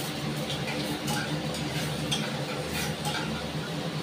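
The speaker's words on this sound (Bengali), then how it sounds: "খুব অল্প কালো জিরে ফোড়ন দিই" Nigella seeds are tempered in smoking-hot oil in a pan, giving a steady, dense crackling sizzle that runs for the whole clip, with faint utensil scrapes and ticks over it.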